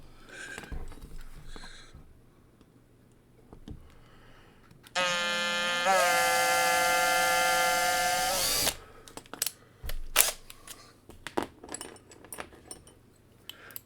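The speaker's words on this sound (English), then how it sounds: "Get you a shot of oil on either your drill bit or the car, one of the two. Use a self-centering bit." A power drill with a self-centering bit whines loudly for about four seconds, high-pitched and steady, drilling into a Hot Wheels Redline die-cast toy car, bracketed by metallic clinks and handling noises before and after.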